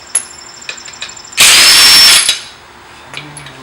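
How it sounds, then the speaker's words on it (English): A pneumatic impact wrench spins off the lug bolts of a Porsche Cayenne Turbo wheel: one loud, close whirring burst of under a second, framed by faint clicks and handling noises. "Impact wrench."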